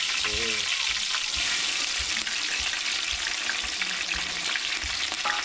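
Green chillies frying in oil on a wood-fired stove, a steady loud sizzle with scattered pops and crackles running throughout, a faint voice briefly audible early on.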